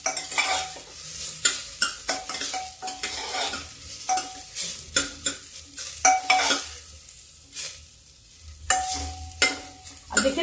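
Asafoetida sizzles in hot oil in a home kitchen pan, a steady frying hiss punctuated by sharp clinks and scrapes of a metal spoon stirring against the pan.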